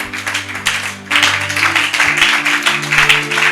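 A congregation applauds and cheers in acclamation during a Bible teaching session, a broad wash of clapping that swells after the first second, over sustained keyboard tones.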